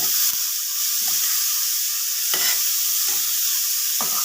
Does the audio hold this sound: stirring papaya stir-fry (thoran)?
yes